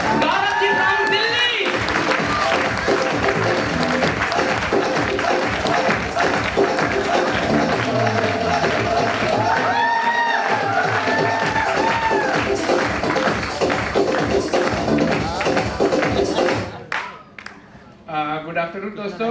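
An audience at a Delhi seminar claps loudly and steadily to welcome a speaker to the stage. The applause runs continuously for most of the clip, with an announcer's voice over it, before it cuts off near the end.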